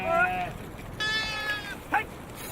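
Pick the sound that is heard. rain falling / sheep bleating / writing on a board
sheep bleating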